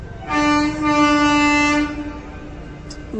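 At Howrah railway station, a train sounds one long, loud, steady horn blast lasting over a second, followed by the low rumble of the platform and the train.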